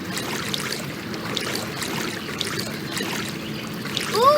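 Water swirls and trickles around a river whirlpool in a children's canoe video game, a soft continuous gurgle and ripple with a brief brighter chime near the end.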